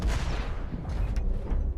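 Mech gunfire in the Hawken video game, a dense volley of heavy booming shots and rumbling blasts in rapid succession, loud and close throughout.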